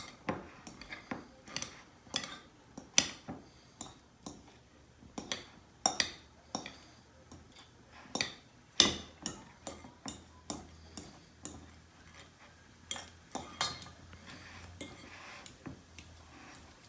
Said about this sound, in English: I've got 2 avocados that I've peeled and pitted, and I'm just gonna mash those up with a fork